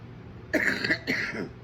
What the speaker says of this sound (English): I've got a very dry cough that I've had for a couple of days.